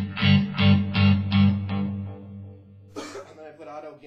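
An electric guitar in alternate tuning played through a sweep echo effect: several strummed chords ring in a steady pulse, then trail off into echoing repeats, followed by a brighter, scraping strum, loud and close with no talk.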